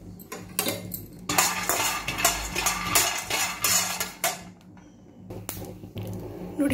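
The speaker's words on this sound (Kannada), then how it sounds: "ಮೊದಲು ಕಡಲೆ ಬೀಜನ ಒಂದು ಬಾಣಲಿಗೆ ಹಾಕಿ ಚೆನ್ನಾಗಿ ಹುರ್ಕೋಬೇಕು." Peanuts dry-roasting in a pan as they are stirred, a dense rattling clatter of nuts and metal utensil that runs almost continuously, close and fairly loud, with brief pauses.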